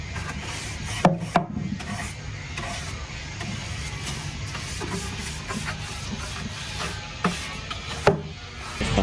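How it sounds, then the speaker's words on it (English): Hand sanding along the edges of a wooden piece of furniture being refinished: a steady, close rubbing scratch with a few sharp knocks and bumps scattered through it. "sanding around the edges"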